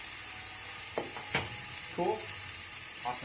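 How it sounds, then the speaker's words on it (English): Meat flash frying in hot oil while being stirred, a steady sizzle running throughout with a few sharper scrape and clatter accents; a voice speaks briefly over it. "it's pretty much flash frying right now"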